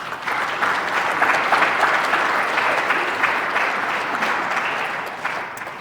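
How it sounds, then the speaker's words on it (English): Sustained round of applause from an afternoon audience at a women's celebration event, honoring partners such as the General Federation of Women's Clubs of Fayette County; dense, steady clapping that holds level throughout, with no voices over it. "let's give them all a nice round of applause"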